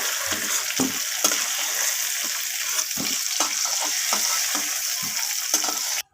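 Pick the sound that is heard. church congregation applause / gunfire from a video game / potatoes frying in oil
potatoes frying in oil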